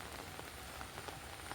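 Rain falls softly on surfaces in a park, a faint, steady patter of scattered drops heard alone with no talk.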